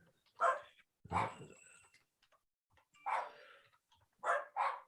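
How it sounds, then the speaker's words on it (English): Dogs barking close by, five or so sharp barks in uneven bursts with short gaps of quiet between them. "I know what you guys are barking at."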